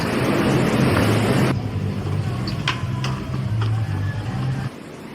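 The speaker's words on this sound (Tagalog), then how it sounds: "isang barko ang hirap na hirap sa paglalakbay sa palikulikong agos ng Ilupasi" The Bapor Tabo steamboat labours along a winding river, a loud, steady low engine drone with rushing water noise that drops suddenly after about a second and a half, leaving a quieter rumble beneath faint clicks.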